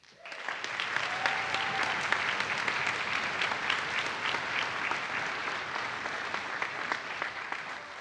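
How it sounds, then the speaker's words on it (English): An audience at a summer music camp honor band event applauds a percussion specialist, a sustained, moderately distant round of clapping with crisp individual claps standing out. "So a round of applause for Tim."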